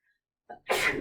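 A single person sneezes in a classroom, a short breathy intake followed by a loud, close, noisy burst that fills the end of the moment.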